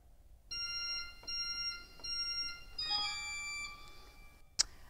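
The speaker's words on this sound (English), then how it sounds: "he, in the next section, asks for a 4 foot flute and a mixture combined" Pipe organ sounding a 4 foot flute and mixture stops together, bright sustained high tones in short held phrases, the last one piling up several pitches, fairly faint and with no talk.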